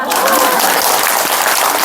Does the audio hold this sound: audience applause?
yes